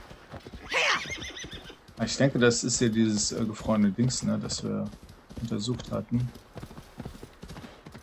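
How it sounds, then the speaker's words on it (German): A horse whinnies, then hooves clop in Assassin's Creed Valhalla as a rider sets off along a coast, the game sounds sitting under steady German commentary from a man. "So, dann reiche man mir ein Pferd, dann reiten wir hier nochmal hin gerade."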